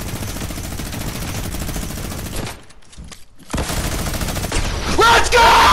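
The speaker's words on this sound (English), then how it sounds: "We got a minigun too." A minigun fires in a video game, dense sustained bursts of rapid gunfire that cut out briefly, then return louder and heavier near the end.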